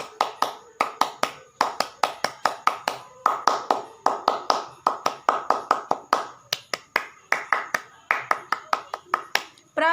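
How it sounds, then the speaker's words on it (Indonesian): Pramuka scouts perform their rhythmic clap three times over, sharp close hand claps in a patterned cadence of quick bursts and short pauses, with chanting voices woven between the claps. "3 kali tepuk pramuka."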